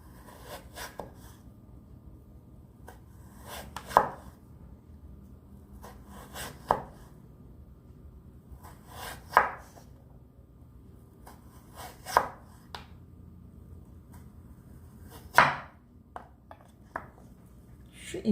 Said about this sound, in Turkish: Şimdi bunu incecik doğramaya başlıyoruz.